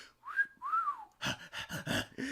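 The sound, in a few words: imitated wolf whistle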